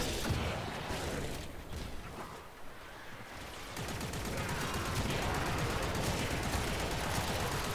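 Rapid, sustained automatic fire from the Rattleguts kitgun in the video game Warframe, a dense rattling stream of shots that breaks briefly and then continues steadily to the end.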